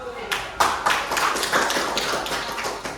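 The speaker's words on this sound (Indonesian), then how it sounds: "tepuk tangan buat" A class of students claps hands in a classroom during an economics lesson, with a burst of sharp, close claps that settles into a steady patter over about three seconds.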